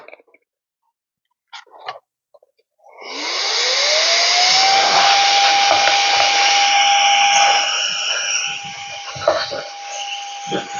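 A handheld air duster blows a steady, loud rush of air in a workshop, clearing dust from vents and surfaces with a rising whine that holds for several seconds after a few faint knocks.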